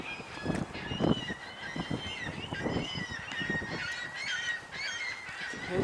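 Gulls near Niagara Falls call repeatedly in a noisy flock, harsh honking cries overlapping at close range over a busy outdoor background.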